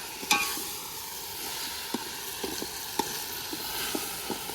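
Chicken pieces go into a hot pan of oil while chicken biryani is cooked, bringing a steady close sizzle with occasional light clicks and stirring taps throughout.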